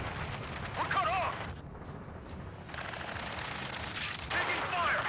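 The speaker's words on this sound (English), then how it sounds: "Taking fire! We're pinned down! Shoot back!" Combat in Ace Combat 7, with a continuous, dense rumble of distant gunfire and battle noise under shouted radio chatter, dropping briefly in the middle before swelling again.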